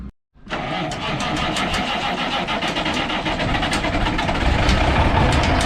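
An old 1978 truck engine cranks briefly after a short pause, then catches and settles into a loud, steady, rumbling run close to the microphone.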